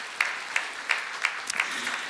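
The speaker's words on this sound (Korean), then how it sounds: "다시 한번 박수하겠습니다." A small church congregation claps during a Sunday worship service after a wedding prayer, giving a handful of sparse, separate claps over a quiet room at a soft, moderately distant level.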